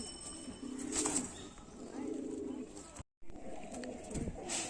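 A pair of flying-breed pigeons coo in soft, repeated low phrases, close and fairly quiet against faint background noise, with a brief dropout near the end.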